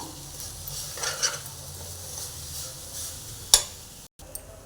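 Crushed cashews being stirred in a pan for coconut laddu, soft scraping stir strokes with light sizzling underneath and one sharp utensil knock near the end.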